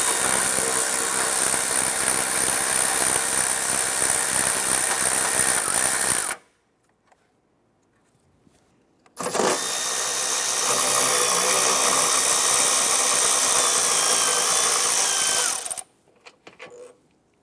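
A power tool loosening and removing 13mm radiator bolts on a 2015-2020 Cadillac Escalade, two long loud continuous whirring runs with a short silent gap between them, then a few faint clicks.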